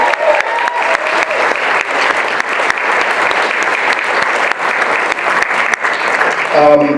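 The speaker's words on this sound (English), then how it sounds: "Let's give them a round of applause, please." Sustained, dense clapping from a large audience fills the whole stretch at a steady, loud level.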